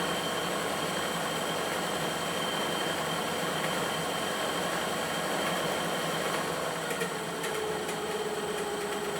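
Twin EDF turbine motors on a propeller rig run steadily at low RPM, producing a constant whirring whine with a continuous, even drone and faint higher tonal lines, without speech.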